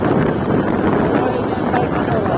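Wind buffeting a microphone on a motorbike ride along a hill road near Purtighat and Seti Beni in Gulmi, Nepal, a steady loud rushing roar filling the whole clip, with a voice faintly mixed in.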